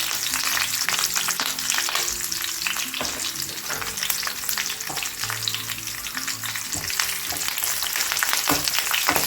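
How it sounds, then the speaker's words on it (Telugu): Curry leaves and dried chillies fry in oil for a gongura dried-prawn curry, producing a dense, continuous crackling sizzle with frequent spattering pops and occasional stirring scrapes, loud and close throughout. "వేసి బాగా ఫ్రై చేద్దాం"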